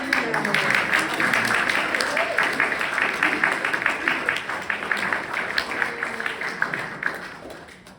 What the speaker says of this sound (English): Big round of applause for the Wong family.